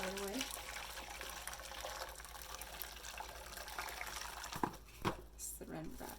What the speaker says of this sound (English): Pour in the hot water right away.